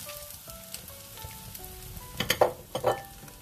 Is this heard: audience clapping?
no